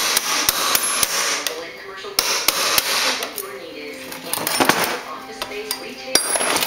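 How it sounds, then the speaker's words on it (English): A chisel struck by a hammer to cut the head off an aluminum bicycle part, giving sharp metallic blows in an irregular series, close and loud, with no talk. "If you have a sharp chisel, use a chisel, cut the head off."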